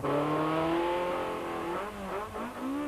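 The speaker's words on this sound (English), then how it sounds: "powers the Sasol Ford Laser into the last of the forest stages" A Sasol Ford Laser rally car with gearbox problems races along a forest stage, its engine droning loudly at high revs, then dropping and rising again as it shifts, heard close without talk.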